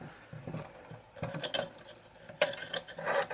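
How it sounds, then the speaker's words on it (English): Hand-tightening an impeller onto its shaft on a Hoover Elite 700 upright vacuum, the shaft held between wood blocks in a C-clamp: close, scattered metallic clicks and scrapes in a few uneven bursts, with no talk. "I'm just going to tighten this impeller down."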